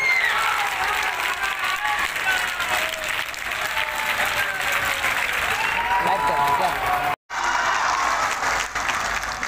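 An audience at a public gathering in Gorakhpur claps continuously for several seconds, a dense, loud wash of applause with voices rising faintly through it, broken by one brief dropout near the end.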